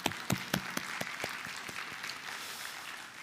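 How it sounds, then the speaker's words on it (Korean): A church congregation applauds in welcome during a Sunday service, with a few distinct claps at first, then a soft, even wash of clapping from a large gathering in a reverberant hall. "그래서 우리 환영의 마음을 담아 함께 박수 한번 하면 좋겠습니다."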